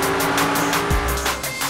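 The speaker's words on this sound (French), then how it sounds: "J'adore conduire rapidement et alors quand je peux m'amuser avec la police c'est encore mieux" A fast car in the GTA 5 video game roars along with its engine revving, then its tires squeal sharply in a short skid partway through, all loud and close with no talking.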